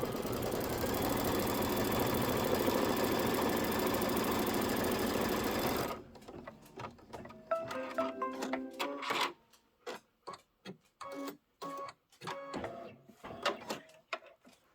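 A sewing machine stitching quilt pieces runs in a steady, loud continuous whir for several seconds, then stops, followed by scattered clicks and handling noises.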